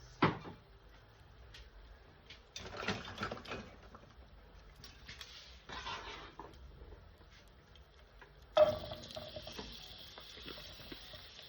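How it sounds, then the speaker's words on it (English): Celery, onions and carrots dropped into hot olive oil for beef stew, bursts of close sizzling and clattering stirring, with a louder, sustained frying hiss toward the end. "now we're going to put in our Holy Trinity, which is celery, onions, and my carrots"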